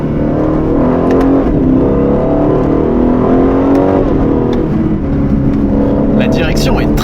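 An Aston Martin DB12's V8 engine hums loudly and steadily as the car accelerates on the road, a continuous low drone with rising pitch, while a person talks over it.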